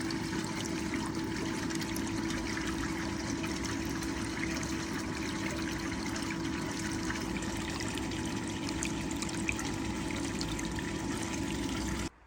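Water runs steadily through a small gold-concentrate cleanup sluice, a constant close trickling wash with a low pump-like hum underneath, holding level and alone throughout.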